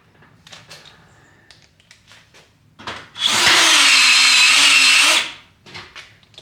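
A power drill drives self-tapping screws into a metal Arrow shed panel in one loud, sustained two-second whir, with light knocks and handling noises before and after.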